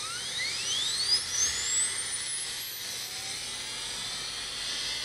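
Air-driven 40,000 RPM high-speed spindle on a Moore jig grinder spinning up, a faint thin whine climbing steadily in pitch over a quiet hiss of air, heard close with no talk.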